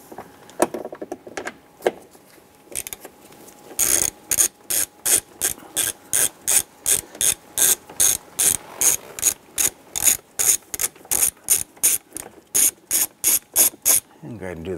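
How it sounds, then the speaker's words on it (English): A hand ratchet fitted with a 10 mm socket and extension loosens A-pillar trim bolts inside a 2002-2008 Dodge Ram 1500 cab. A few slow clicks give way to a long, fast, evenly spaced run of loud, close ratcheting clicks. "go ahead and use a 10 millimeter socket and extension. And we're going to remove the bolts that are inside here."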